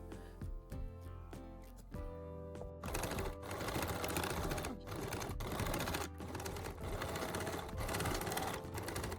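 Sewing machine stitching the seams of a bag handle, two rows at 2 mm and 7 mm from the edge. After a quiet tonal opening, a steady, close, dense mechanical whirr runs continuously with faint background music.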